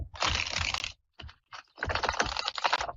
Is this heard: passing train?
no